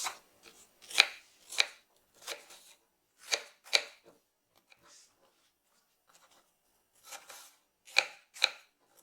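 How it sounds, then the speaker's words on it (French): A knife chops apples into small cubes on a cutting board in sharp, close, crisp strokes, coming in quick pairs and short bursts with pauses between, no voices. "On va maintenant les couper en petits cubes."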